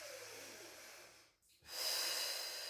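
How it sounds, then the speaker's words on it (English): A single deep breath during a core exercise, a long airy exhale, a brief pause, then a strong hissing inhale, close and alone. "Take a little breath here."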